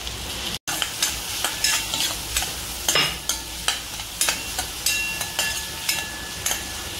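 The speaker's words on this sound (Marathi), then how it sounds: "तापल्यानंतर जो चिरलेला कांदा आहे तो मी घालणार आहे" Chopped onion frying in hot oil until golden brown, for a green chili kolambi (prawn) dish, makes a steady close sizzle broken by regular stirring scrapes about once a second, with no talking.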